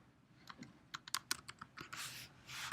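Keys clatter in a quick, uneven run of sharp clicks on a computer keyboard, fairly close and alone, with a couple of brief rustling sweeps near the end.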